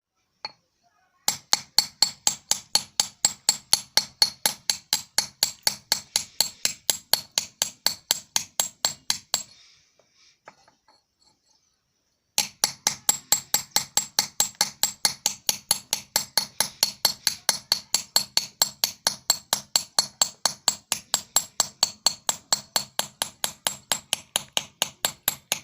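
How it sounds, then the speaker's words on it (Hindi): A hammer strikes a chisel against a stone sil batta grinding slab, roughening its surface: a long, steady series of sharp metallic taps, evenly spaced and close, pausing briefly midway before resuming at the same brisk rhythm. "तो अब हम सिल और बट्टे दोनों को इस तरीके से अब छीन दिए हैं।"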